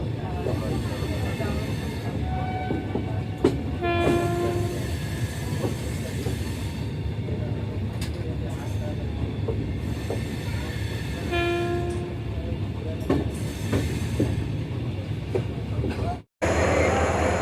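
Saurashtra Mail 22945, an express train running on the line toward Rajkot, gives a steady rumbling roll with a few short horn-like tonal blasts near the start and middle, heard from inside the carriage.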